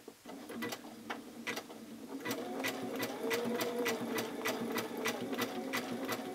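A sewing machine runs a tiny zigzag stitch for appliqué on a Dresden Plate quilt block, a steady rapid ticking close by with brief pauses at the start before it settles into continuous stitching.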